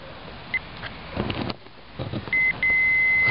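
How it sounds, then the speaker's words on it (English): A brief electronic beep from a multimeter continuity test as the leads touch, then a longer steady tone that cuts out and resumes as a sustained high beep, with some rustling and handling noise beforehand. "we touched leads together, and it makes a beeping sound"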